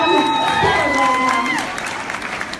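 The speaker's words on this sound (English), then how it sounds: "Give them a round of applause." Audience applause and cheering at a training event, loud clapping with whoops and voices up front that tapers off into scattered claps.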